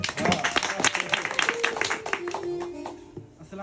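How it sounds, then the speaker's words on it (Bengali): A crowd claps for a guest at a celebration: a burst of dense, close clapping that thins out over a few seconds, with a voice speaking through the tail end. "তার জন্য আরেকটা হাততালি হবে"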